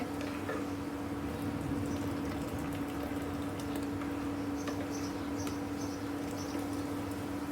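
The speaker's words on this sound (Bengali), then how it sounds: "দেখতে পাচ্ছেন রসটা ফুটে উঠেছে" Date palm juice, strained, thickened and frozen beforehand, bubbles in a pot as it boils, a faint steady simmer with soft scattered pops under a low hum.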